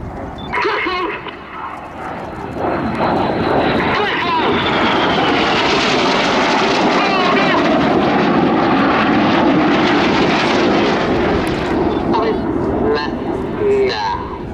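Red Arrows jets fly aerobatic opposition barrel rolls at Athens Flying Week 2017, producing a loud, continuous jet roar that swells and holds through the pass before easing slightly at the end.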